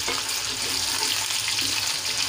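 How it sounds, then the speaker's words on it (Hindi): Washed potatoes frying with onions in a pan, giving a steady, dense hiss and sizzle that runs throughout, close and even, with no voice over it. "अब आलू को भी प्याज के साथ में डाल देंगे और हल्का सा आलू को फ्राई कर लेंगे"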